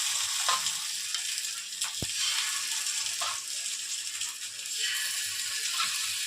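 Rice-flour pitha batter spooned into a hot pan, frying with a steady soft sizzle and a few brief clinks and taps as each portion is added.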